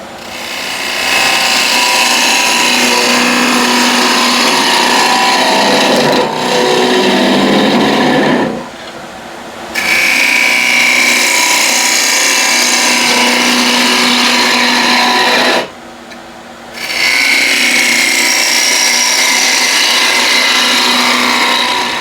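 A gouge cuts wood spinning on a lathe, a loud sustained whirring hum with the tool's rasping cut, broken by two short pauses where the tone drops away before the cutting resumes.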